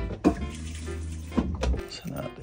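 Water flushing antifreeze through a trailer camper faucet, a steady running stream with a couple of sharp thunks, while a person talks over it.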